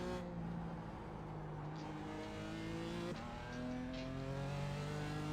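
A GT4 race car in the iRacing sim at Mid-Ohio drones loud and close, its engine pitch stepping through gear changes with a sharp drop near the middle and then rising again, with no talk over it.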